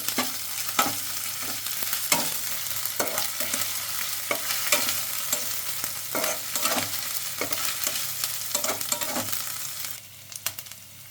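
Ginger paste fries with onion in hot oil while a spoon stirs it around the pan, a constant close sizzle broken by frequent scraping strokes.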